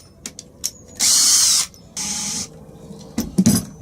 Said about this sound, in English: So I'm drilling the holes and I'll put the screws in later.